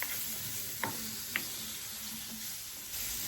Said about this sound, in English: I melted about a teaspoon of drippings and sautéed the leeks and carrots